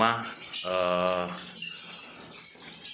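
Swiftlets chirp and twitter inside a converted boarding-house swiftlet nesting house, a dense, continuous chorus of high calls with a louder tonal burst near the start, filling the space without pause.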